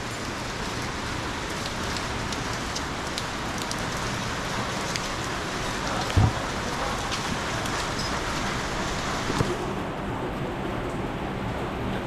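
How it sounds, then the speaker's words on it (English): Steady rain falls on Rua de Camilo Pessanha, a narrow alley street in Macau, making a constant even hiss of drops on pavement with an occasional brief knock. "Lots of rain."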